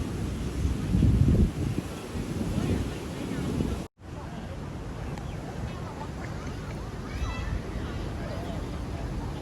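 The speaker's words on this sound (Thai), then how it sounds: "วันนี้ลมแรงขึ้นแรงมากเลย" Strong wind gusting across the shore at Cha-am beach in Thailand, a steady roaring rush with buffeting on the microphone and surf underneath, heaviest at the start, a brief cutout, then continuing at an even level.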